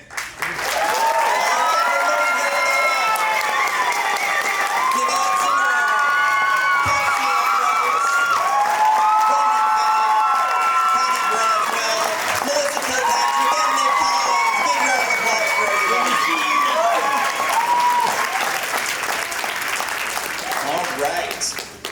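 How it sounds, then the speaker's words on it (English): A convention panel audience at Spooky Empire 2024 applauds and cheers as panelists come out, continuous loud clapping with whoops and shouted cheers over a busy crowd roar throughout. "let's give a warm round of applause for all the rest of our panelists"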